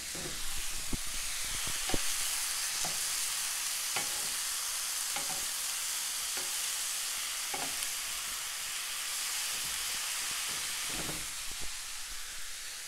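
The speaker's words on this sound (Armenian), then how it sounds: "10 րոպեն անցավ, հիմա ավելացնում ենք լոլիկը։" Tomatoes fry in a hot pan for an okra-and-tomato dish, giving a steady, bright sizzling hiss with occasional utensil taps and stirring clicks, close and without talk.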